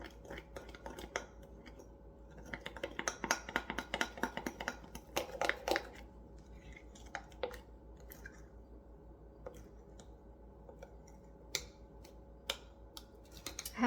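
Mug cake batter with oil stirred inside a mug, giving irregular clicks and light scrapes that come busily for the first several seconds and then thin out to sparse taps.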